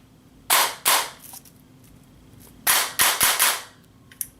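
Airsoft gun fitted with a Retro Arms straight trigger fires sharp snapping shots: two separate rounds, then a quick full-auto burst of four or five, loud and close with no talking.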